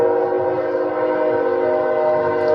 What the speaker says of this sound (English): There's the Kansas City Southern Railroad. Usually pass here around 5:30.